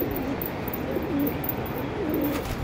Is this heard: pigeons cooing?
yes